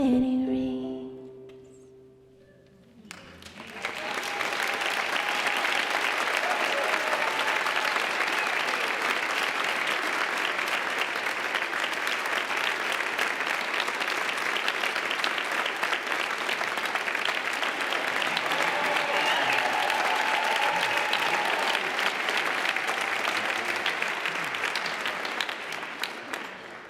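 Sustained audience applause at a celebration-of-life gathering, starting after a brief moment of singing or talk, then a steady, full wash of clapping that holds evenly for over twenty seconds before tapering slightly at the end.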